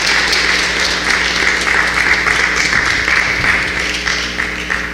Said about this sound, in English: Please, again, just give him one more round of applause